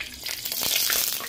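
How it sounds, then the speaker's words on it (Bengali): Potatoes sizzle in mustard oil in a hot wok, a bright continuous hiss with small crackles and a few stirring clicks, close and steady. "এবার কড়াইতে আমরা সর্ষের তেলটা দিয়ে দেবো আলু ভাজার জন্য।"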